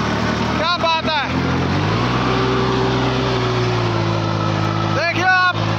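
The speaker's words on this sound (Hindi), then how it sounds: "देखियो ट्रैक्टर की जैसे उड़ता जा रहा हो" A Solis 2516 mini tractor with a rotavator runs with a steady droning engine note that shifts to a higher pitch partway through, close and loud throughout, while someone talks excitedly over it.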